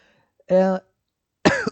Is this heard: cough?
yes